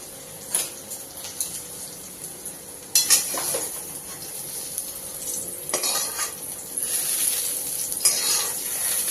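A spoon stirs sautéed okra into a pot of buttermilk curry (mor kuzhambu), with quiet scraping and clinking strokes and a few louder knocks against the pot, close up and without talk.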